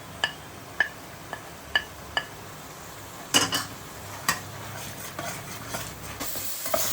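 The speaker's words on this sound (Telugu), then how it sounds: "మసాలా వేగిపోతుందండి" Spice masala of fenugreek, ginger-garlic paste, turmeric and onion fries in oil for a Guntur-style chapala pulusu fish curry, with faint sizzling broken by sharp spoon taps and scraping stirs against the pan.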